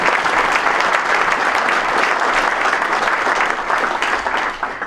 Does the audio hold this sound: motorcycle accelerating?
no